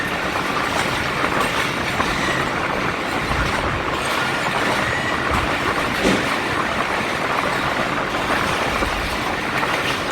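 The Jaffar Express passenger train runs on rails between Lahore and Rawalpindi near Gujranwala, a loud, continuous rumble with faint clickety-clack of the wheels heard from inside the moving train.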